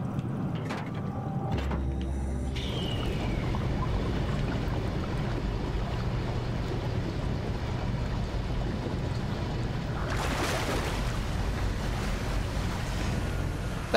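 In the video game Soma, water rushes steadily through pipes as a flush runs, a loud, continuous roar that swells near the end.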